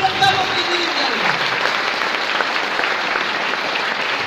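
An audience at a talk by Dr. Sanju Yadav in Guna breaks into applause, broad and continuous crowd clapping that holds at a fairly even level, with a few tonal sounds near the start.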